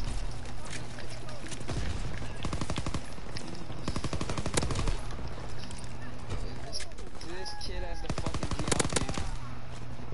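Rapid automatic fire from a BAR rifle in a WW2 video game, repeated bursts of sharp cracks running through nearly the whole stretch, loud and close, with a player talking over the shooting.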